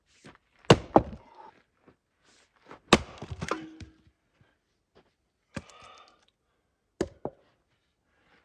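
An axe strikes wood on a wooded lot being cleared for a house pad, giving a handful of sharp, irregular thunks spaced out over several seconds with quiet gaps between the blows.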